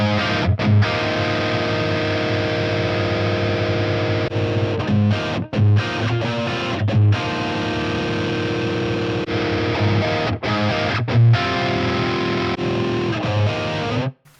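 Heavily distorted electric guitar played through an amp modeler, chugging chords and riffs, loud and saturated, with brief stops and rests between phrases and no talking.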